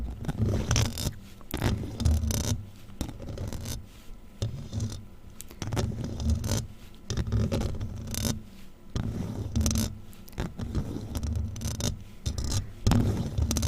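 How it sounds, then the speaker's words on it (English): A clawed Freddy Krueger glove scratches and scrapes across a microphone in close, rhythmic bursts of rasping friction, separated by short quiet gaps. "this video is really more just me whispering and scratching the mic with Freddie Glove"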